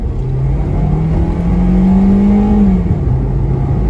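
A remapped Toyota Vios G2 on E20 fuel, 15-inch wheels and a stock exhaust accelerates from inside the cabin. The engine drone rises steadily in pitch, then drops at a gear change, loud and continuous.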